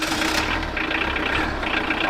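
A car engine running with a rough, tractor-like chug, a steady low rumble with a knocking texture that stays close and continuous throughout.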